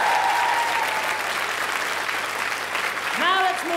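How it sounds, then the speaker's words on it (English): A studio audience applauds steadily throughout at a 1998 live music television show, dense clapping that carries on as a brief musical tone and a voice surface near the end. "So let's have a quick glance and a round of applause."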